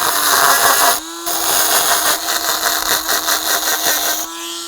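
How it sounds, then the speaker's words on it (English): Mini drill fitted with a grinder bit grinding away leftover material, a high steady whine that dips as the bit bites, pauses briefly, then stutters through repeated contacts before spinning freely again, loud and close. "we've got a grinder bit there fitted. And we're just going to switch it on and grind away what's left of that material"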